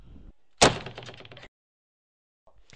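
A door is shoved open with one sharp loud thud followed by a short rattling creak, then silence and a faint shuffle at the end.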